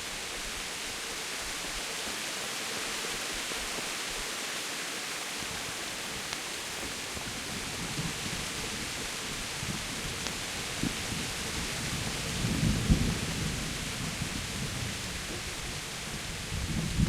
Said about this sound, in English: Teresa, what are you doing out in the rain?